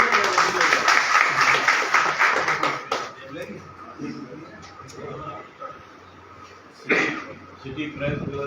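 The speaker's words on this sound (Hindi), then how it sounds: "सभी लोग ताली जरूर बजाएं" Applause from the audience at a City Press Club gathering in Faridabad rises for about three seconds and then dies away, followed by quiet room noise, a few scattered claps and a brief murmur of voices.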